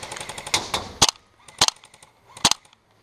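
Several sharp cracks from an MP7 airsoft gun during an open-play skirmish, spaced about half a second apart, nearby and fairly loud against a quiet background.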